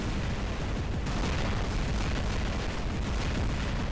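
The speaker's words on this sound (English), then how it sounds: "he has Orkans, so he's just going to be firing into my shield" In the mech battle game War Robots, Orkan missiles pound into a robot's energy shield, a dense, continuous roar of blasts and rumbling explosions at steady high volume.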